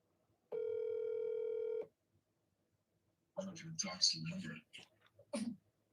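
A telephone dial tone holds steady for over a second while a phone call is placed, then stops, and someone speaks and clears his throat afterward.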